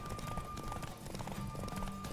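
A horse galloping in The Witcher 3, a rapid continuous clip-clop of hooves at a steady driving rhythm, close and prominent over a low game soundscape.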